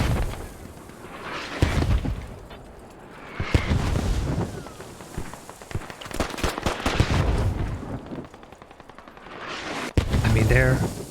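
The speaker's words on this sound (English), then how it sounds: "this is a fantastic mortar support" Mortar rounds and gunfire in a military video game night assault by British mechanized forces, repeated heavy booms and bursts of shots, some near and some distant, with a voice talking over parts.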